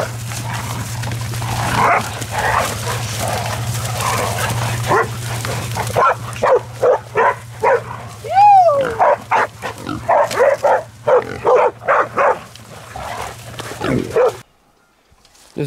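Hunting dogs bark and yip in repeated bursts while baying a wild boar in basalt country, loud and close over a steady low engine-like drone, with a brief high whine partway through.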